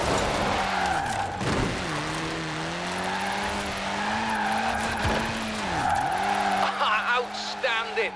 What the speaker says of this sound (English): Now let's really shred those tires